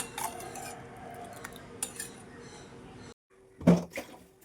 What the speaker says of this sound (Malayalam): അതെല്ലാം തേച്ച് കഴുകി വയ്ക്കുന്നുണ്ട്.